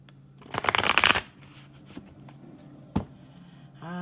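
A tarot deck gets a quick riffle-style shuffle, a close, crisp burst of flapping cards, followed by quieter handling taps and a single sharp card snap.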